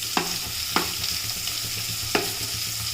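Onions fry in a pan for poori curry, a steady close sizzle with a low hum underneath, broken by three or four sharp scraping taps of a spoon stirring against the pan.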